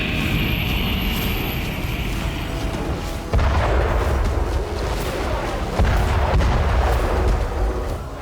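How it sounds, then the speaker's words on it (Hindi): Zulfiqar class ballistic missile launched from the Shahid Mahdavi carrier and hitting a target in the central Iranian desert: a loud sustained roar, then heavy booming blasts around three and six seconds, rumbling on afterward. "ईरान ने शाहिद महदवी एयरक्राफ्ट कैरियर से जुल्फागर क्लास बैलिस्टिक मिसाइल लॉन्च की, जिसने कुछ मिनट में मध्य ईरान के रेगिस्तान में टारगेट ध्वस्त कर दिया।"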